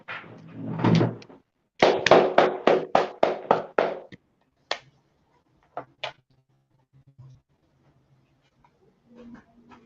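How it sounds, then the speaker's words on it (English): A handful of people clap during an online class, a burst of about eight sharp, evenly spaced claps followed by a few scattered single claps that trail off into near silence. "clap it up"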